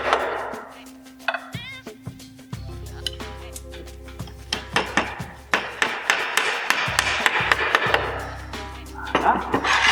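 Nails are hammered into slate roofing tiles, a run of sharp metallic taps that starts sparse and speeds into rapid repeated strikes, close and loud.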